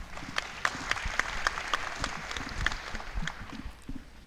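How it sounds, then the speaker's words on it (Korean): Audience at a maritime and fisheries outlook conference applauding to welcome a speaker: steady moderate clapping from a room of people, with a few sharper individual claps standing out throughout. "박수로 환영해 주시면 감사하겠습니다"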